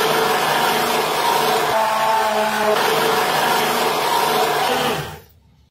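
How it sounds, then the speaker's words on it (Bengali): A blender whirs steadily for about five seconds, churning mango, sugar and milk for mango ice cream, then cuts off abruptly into silence. "এখন সবকিছু একসঙ্গে ব্লেন্ড করে নিব।"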